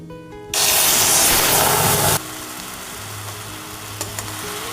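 Boiled tomatoes hit a hot oiled pan for chutney with a sudden loud sizzle that hisses strongly for about two seconds, then drops to a softer steady frying crackle.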